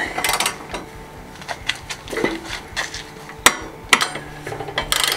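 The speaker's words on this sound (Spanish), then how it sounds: "Ya la estás usando de martillo." A wrench used as a hammer on a Rover 75 engine subframe and plumbing, giving sharp metallic clanks and taps at irregular intervals, a few louder strikes among lighter knocks, with almost no talk.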